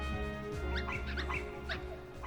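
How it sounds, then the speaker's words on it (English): Many dogs yip and bark in the Kingdom Hearts video game, high excited yelps overlapping in quick bursts over a steady tonal game background. "Oh god, it's loud. There are too many dogs."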